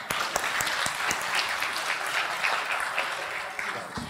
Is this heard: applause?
yes